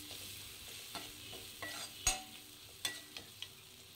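A spoon stirs a soft onion and tomato mixture in a pan for Tamil karuvadu kulambu, producing quiet scraping strokes and light sizzling, with a few sharper clinks against the pan over a low frying hiss.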